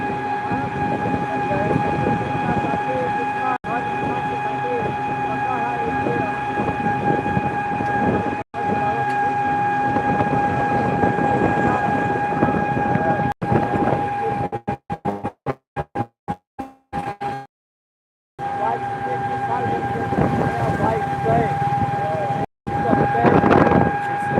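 A train at an Indian railway station junction rumbles and clatters steadily throughout, with a sustained tonal drone, occasional knocks and brief gaps, loud and close, under faint background voices.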